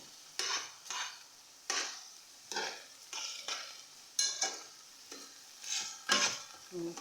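Meat stir-fried in a pan, sizzling under a steady run of about a dozen spatula strokes, each a brief scraping swish at a regular, unhurried rhythm, close and moderately loud.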